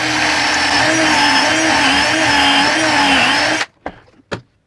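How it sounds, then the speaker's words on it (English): A pocket hole drill bores through a jig guide into pallet wood, whirring loudly and steadily for several seconds before cutting off, followed by two short knocks. "this is a special pocket hole drill"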